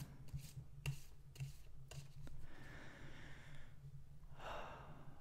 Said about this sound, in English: I'm just going to give the cards a good shuffle